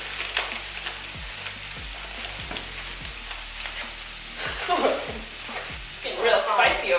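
Rustic garlic and herbs sizzle and fry in a pan with steady crackling, while a utensil stirs and scrapes in repeated strokes; the sizzle swells louder near the end.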